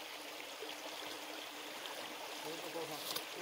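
A stream on a hiking trail in the Saariselkä fells flows with a soft, steady rushing, faint and continuous, with a quiet voice briefly audible.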